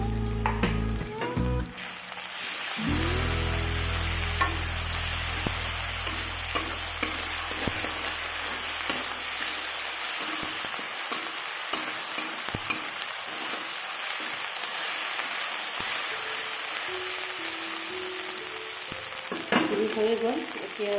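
Green chilies and cumin frying for a rohu fish curry with pointed gourd, a steady loud hiss of sizzling oil with occasional small crackles and pops, close and continuous, with a brief low hum at the start.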